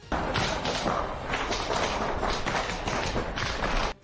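Heavy gunfire from Russian soldiers and Chechen fighters in the Ukraine war, a dense, loud, continuous barrage of rapid cracking bursts lasting about four seconds before cutting off abruptly.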